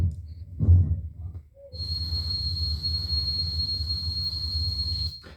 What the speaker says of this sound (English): a common condition characterized by the perception of noise or ringing in the ears.